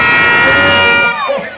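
A crowd at a Christmas parade cheers and claps in a loud, dense burst alongside a blaring horn, then thins out as the noise settles.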